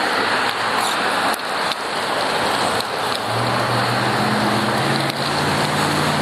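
Constant loud rushing traffic noise on Yonge Street in Toronto, heard from a bicycle, a dense wash of road roar with a low engine hum rising partway through.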